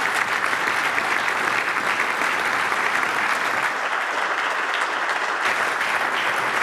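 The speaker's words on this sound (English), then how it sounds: "join me in welcoming Otmar Issing with a big round of applause" Sustained audience applause welcoming a lecturer at a distinguished economics lecture, a dense steady clatter of many hands clapping at even loudness throughout, with no voices over it.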